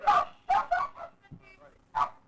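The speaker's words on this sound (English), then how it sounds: "We have a little studio dog." A small studio dog gives several short yapping barks with brief whimpering between them, close and fairly loud.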